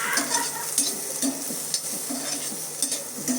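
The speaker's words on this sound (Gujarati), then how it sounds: "થોડુંક આપણે તેલ લેવાનું, 1 ચમચી જ, વધારે નહીં. અને સારું એવું શેકાવા દઈશું." Onions roasting in a single spoon of oil in a pan for fish fry and gravy, giving a steady close sizzle and crackle with soft stirring scrapes throughout and no voices.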